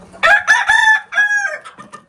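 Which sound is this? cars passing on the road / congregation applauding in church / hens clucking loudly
hens clucking loudly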